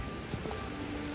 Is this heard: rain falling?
yes